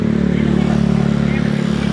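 A motorcycle passes behind on a path at the Kebun Raya Bogor botanical garden, its engine a steady, fairly loud drone that holds for the whole two seconds.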